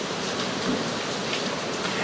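Heavy rain pours down in a dense, constant hiss of drops striking surfaces, steady and even from start to finish with no voices.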